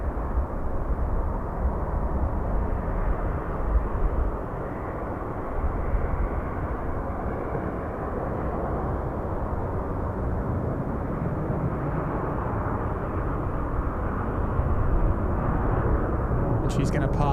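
An airliner at Seoul Incheon airport, a steady broad engine roar from the runway that holds at an even, fairly loud level throughout, mixed with wind and background noise.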